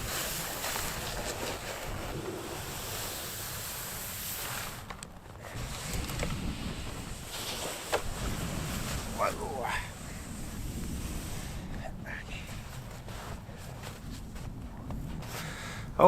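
Cold wind blows steadily across a frozen lake in winter, a continuous rushing roar buffeting the microphone, with brief faint voice sounds under it.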